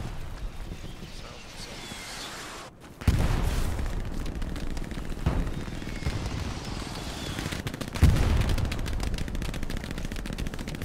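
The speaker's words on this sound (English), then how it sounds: "Sounds like a tank or an MG34 close." Close bursts of gunfire, a tank or MG34 machine gun, in the Hell Let Loose World War II game, with loud impacts near 3 and 8 seconds over a dense, continuous battle din.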